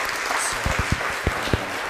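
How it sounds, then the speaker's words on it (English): An audience applauding a lecturer before a talk on monarch butterflies, a dense patter of clapping with a few louder individual claps standing out close by, no speech over it. "I'd like everyone to give Dr. Briar applause"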